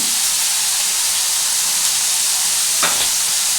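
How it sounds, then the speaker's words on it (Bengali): Snake gourd and prawns frying in a pan, a loud, dense, continuous sizzle and hiss heard close up, with one brief stirring scrape near the end and no talking. "এটাকে আমি এখন ভালো করে নাড়াচাড়া করবো"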